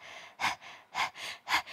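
Fast panting through the open mouth during a yoga breathing exercise: three sharp, loud breath pulses at an even rhythm, separated by softer breathy strokes, close and alone.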